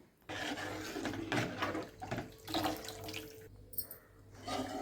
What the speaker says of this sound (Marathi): आणि थोडंसं पाणी टाकायचं आपल्याला पातळ पाहिजे त्याच्यानुसार ही कढी करायची